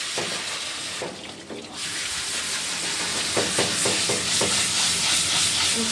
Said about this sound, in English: I'm trying to be as careful as possible not to squirt water directly into her ears